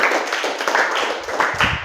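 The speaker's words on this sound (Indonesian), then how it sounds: "Sebelumnya kasih tepuk tangan untuk kita semuanya sudah selesai tugas." A class session audience claps together, a brief burst of brisk, uneven hand clapping close by with a few louder individual claps standing out, and faint voices underneath.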